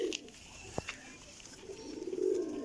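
Rampuri pigeons of an old bloodline coo softly in a low, wavering burst near the end, with a brief sharp tap earlier over faint background noise.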